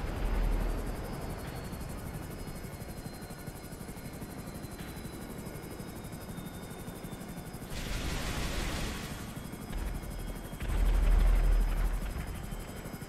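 A Hunter attack helicopter battles a jet in GTA Online: a continuous chopping rotor drone carries throughout, broken by louder bursts of gunfire and explosive blasts near the middle and toward the end.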